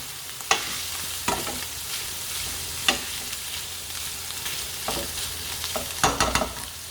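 Quinoa stirred in olive oil in a pan, a low steady sizzle broken by a few sharp scraping knocks of the spoon, close by with no talk.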